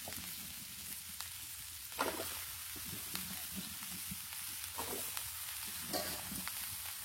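Vegetables frying lightly in a pan before local bottle gourd is added, with a continuous crackling sizzle and occasional stirring scrapes, fairly faint and steady.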